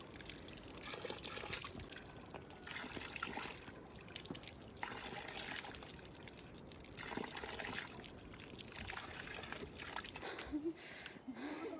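Water trickles and splashes steadily at the Sahasradhara springs beside a temple, a continuous close wash of flowing water that runs unbroken from start to end with no talk.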